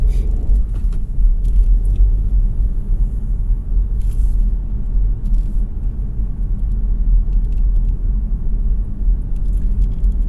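A car drives along a road during a UK driving test near Letchworth, its engine a loud, steady low rumble with road noise filling the cabin continuously and no clear rise in pitch, no speech.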